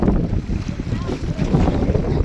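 Wind gusts buffet the microphone at sea on a fishing boat while fishing for marlin, a loud, rough low roar that rises and falls throughout the short stretch.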